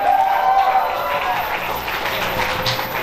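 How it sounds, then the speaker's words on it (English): Audience applause at a live Houston concert, broad noisy clapping and crowd noise filling the short moment, with a tonal sustained sound beneath suggesting music or feedback lingering. "So give yourselves a round of applause,"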